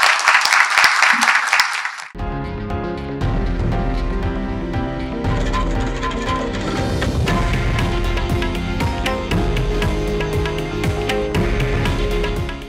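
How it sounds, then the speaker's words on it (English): A studio audience claps loudly for about two seconds after a televised interview with Devendra Fadnavis, then the applause cuts off and a bright, busy music jingle plays on steadily. "On behalf of all the audience, a big round of applause"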